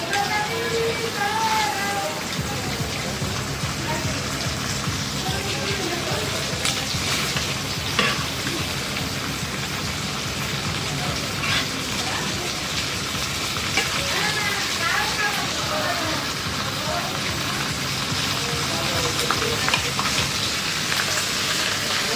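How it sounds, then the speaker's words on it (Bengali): Meat pieces for luchi kebab fry in oil in a pan with a loud, continuous sizzle, broken by frequent scraping and stirring sounds throughout. "বাকি মাংসগুলো আমাদের ভাজা হয়ে গেল এখন নামাই নেব"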